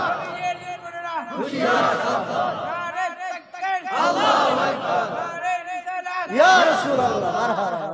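A large crowd at an Islamic waz mahfil in Karimganj, Kishoreganj, chants the Naraye Risalat slogan in loud, rhythmic call-and-response waves, three surging bursts of many voices echoing through a sound system.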